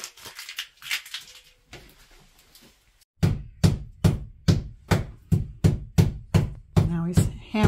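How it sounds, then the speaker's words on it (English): A tape-wrapped screw is hammered into a bathroom wall during a DIY renovation: about a dozen sharp, loud, evenly spaced hammer blows ring out in a steady rhythm after a quieter stretch of softer knocks and handling. "Now he's hammering a screw wrapped in tape into the wall."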